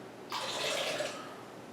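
Water pours into a formula-mixing baby bottle in one short, close splashing stream that starts abruptly and runs steadily for over a second.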